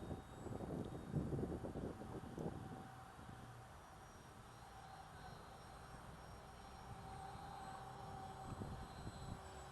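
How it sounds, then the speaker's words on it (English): HobbyKing 1100mm EPP Sbach 342 radio-controlled model plane on a 3S LiPo, flying slowly, its faint electric motor hum carrying on outdoor wind with no talk. "this is a slow flying plane"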